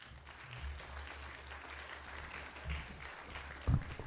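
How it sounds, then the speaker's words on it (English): Scattered applause from an audience at a mayoral forum in Philadelphia, fairly faint and steady, with a couple of low thumps near the end. "the next person that will be coming up, and you can clap for him, is Philadelphia City Council Member Kenyatt"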